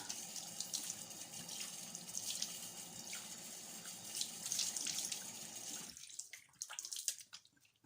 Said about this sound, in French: Une fois que la mousse est appliquée, je rince.